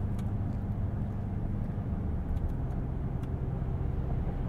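Steady low engine drone from a 2021 Ford F-150 4X4 SuperCrew Limited with a 10-speed automatic while driving, heard from inside the cab with some piped-in engine sound, an even continuous rumble with faint road noise.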